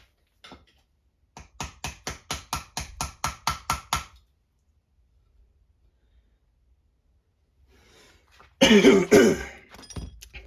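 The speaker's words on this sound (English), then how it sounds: "get this and hammer it on the concrete real quick" A part for an MP-17 assembly is hammered on a concrete floor. About ten quick, evenly spaced taps ring out up close, then after a quiet gap comes a louder, clattering cluster of blows.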